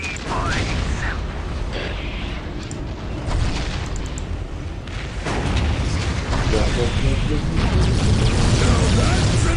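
A large explosion in the video game Warhammer 40,000 Winter Assault, with loud booming blasts and a rumbling burst around the middle, set among dense battle noise and game voices.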